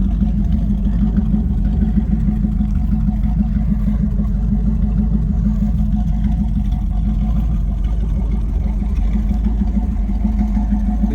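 A Pontiac Trans Am fitted with a Pypes crossflow exhaust idles with a steady, smooth low rumble that stays close and continuous, with no sharp rev peaks standing out.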